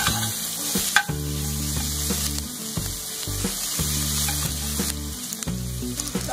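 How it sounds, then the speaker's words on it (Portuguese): Onion and linguiça sausage sizzle steadily in a pan for a stuffed pumpkin dish, a continuous close frying hiss with faint scraping and clinks and no voices. "eu já dei uma douradinha na cebola e na linguiça"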